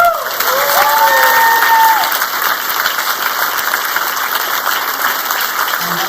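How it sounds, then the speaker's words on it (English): Loud crowd applause for volunteer staff at an Honor Flight veterans' welcome-home event, dense clapping with a few cheers and whistles near the start, then a steady wash that continues to the end. "So I want to give Mike and all the blue shirts a round of applause."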